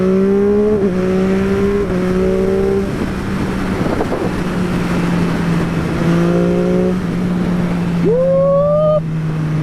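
A motorcycle ridden at speed, its engine note rising and stepping between gears over steady wind roar, with a sharp upward rev near the end; a voice speaks briefly underneath.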